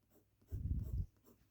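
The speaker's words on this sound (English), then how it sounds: "you want to hear the pen" A Pelikano student fountain pen nib scratches across paper in a single brief, soft stroke, close and quiet.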